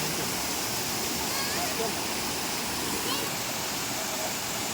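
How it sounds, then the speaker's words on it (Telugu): Steady, dense rush of flowing water, like a stream tumbling over rocks, at the Sri Gubbala Mangamma temple, loud and continuous throughout with no pauses. "వాటర్ చూడండి ఎంత బాగుంది అసలు చాలా బాగుందండి"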